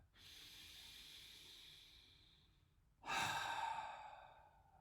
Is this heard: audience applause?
no